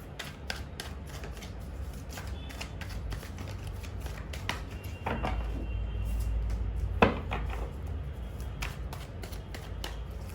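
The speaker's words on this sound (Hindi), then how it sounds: "अब हम पहले कुछ कार्ड्स निकालेंगे टेरो से" Tarot cards are shuffled by hand in a steady run of crisp riffling flicks and soft slaps, moderately close, with one sharper snap near the end and no talking.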